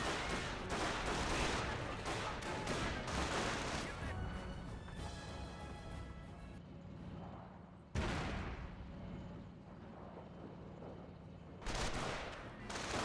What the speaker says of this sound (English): Panzer Grenadiers receiving a bit of fire from the rifle squad.